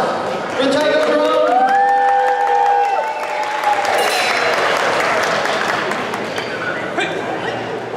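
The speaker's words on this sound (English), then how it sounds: "please, a big round of applause for Taiko Dojo." Applause and cheering rise for the Orlando Taiko Dojo drummers at an Asian cultural festival, with crowd voices and whistles over loud, continuous clapping.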